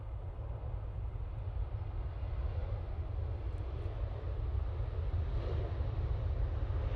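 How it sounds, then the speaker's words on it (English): TUI airliner departing Manchester Airport, a broad low rumbling roar heard from a distance outdoors, steady and sustained with wind noise over it. "Good looking TUI departing there."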